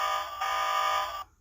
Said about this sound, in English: we get like an alarm sound